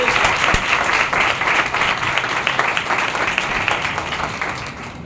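Strong, continuous congregation applause during a Sunday church service, a dense, loud wash of many hands clapping for several seconds.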